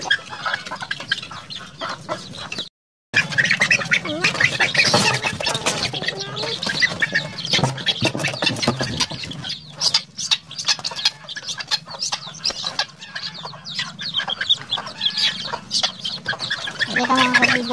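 Young chickens in a coop squawk and cluck continuously, loud and close, in a busy overlapping chorus that drops out once for a moment.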